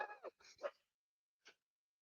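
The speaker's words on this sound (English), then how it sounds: "both times that he did that, my dog barked" A dog gives one short bark, close and fairly loud, right after a burst of voices. A brief pause separates the talk from the single sharp yelp.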